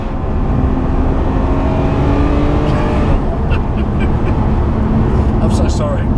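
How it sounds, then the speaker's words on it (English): Ferrari 599 GTO V12 engine revving loudly and close, a raw, steady rising and falling roar with a sharp burst near the middle, speech briefly heard alongside. "the V12 just sounds a little bit rawer, a little bit more like an F1 car"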